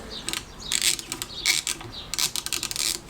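A ratchet wrench tightening 10mm bolts on the front brake slave cylinder of a classic Fiat 500, rapid clicking pawl bursts in short, repeated strokes, close and crisp without talk.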